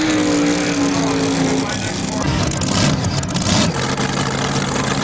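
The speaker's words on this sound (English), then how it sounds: "our next tractor rolls in" A 1994 mini rod pulling tractor at a Bowling Green, Ohio pull rumbles loudly and steadily as it rolls in, a heavy engine drone with slight revving, close and continuous.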